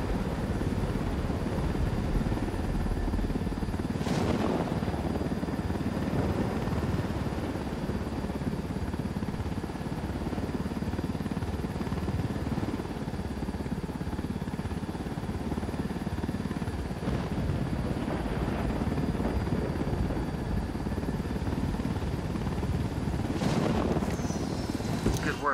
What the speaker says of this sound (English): You can leave the chopper here and the rebels will pick it up.